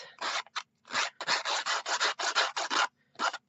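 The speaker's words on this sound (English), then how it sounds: "all I'm going to do is actually take my X-Acto knife" An X-Acto knife scrapes and roughs up the ends of a paper card in a string of short, close, rasping strokes, about a dozen in a quick uneven rhythm with brief pauses between them.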